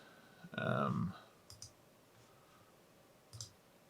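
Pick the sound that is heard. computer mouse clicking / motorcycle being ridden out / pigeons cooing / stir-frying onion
computer mouse clicking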